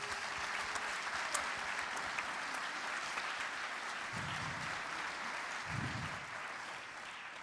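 A conference audience gives steady, dense applause that stays even throughout, with a couple of faint low thumps near the end and no talking.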